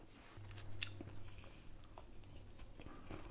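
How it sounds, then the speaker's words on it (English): Someone chewing a salad of tomatoes and roasted peppers dressed with vinaigrette, served with strip steak and bread; soft, close crunching and biting bites recur irregularly over a low steady hum, with no talking. "Now I'm going to taste my salad."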